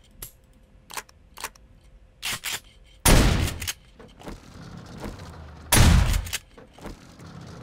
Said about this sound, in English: I'm gonna shoot it